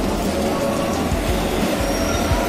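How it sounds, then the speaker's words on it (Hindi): A metro train rumbles into a station, its steady low roar and rail noise filling the scene continuously at close range with no talking over it. "मेरे पीछे ट्रेन भी आ गई"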